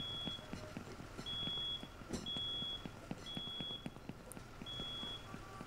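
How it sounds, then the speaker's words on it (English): A house fire alarm in the firefighter simulator game Into The Flames beeps in repeated long high tones with short gaps, steady and fairly loud over low rumbling background noise and scattered thumps. "I hear the alarm in here"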